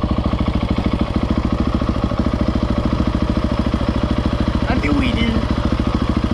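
A KTM SMR 690 motorcycle engine idles with a fast, even, thumping pulse, loud and close throughout, while a voice briefly calls out near the end.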